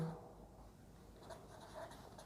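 Faint scratchy strokes of writing on a board during a calculus lesson, soft and irregular under a quiet room hum, ending on a brief sharp tap.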